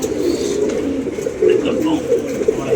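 Pigeons coo steadily at close range in a loft, soft throaty warbling calls overlapping one another, with faint background sounds.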